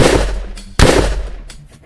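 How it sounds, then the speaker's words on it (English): Two sharp gunshots ring out in quick succession, each a loud, broad blast trailing into a short decay, the second about three-quarters of a second after the first. "He quickly fires off 2 rounds"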